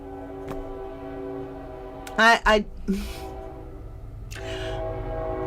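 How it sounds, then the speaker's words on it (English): A train horn sounds in two short, loud blasts over a steady low rumble of a passing train, followed by a quieter hiss. "True train coming through."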